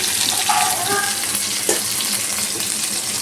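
Boiled eggs and a potato frying in oil give a loud, constant sizzling hiss with a few brief clinks near the start, no talking.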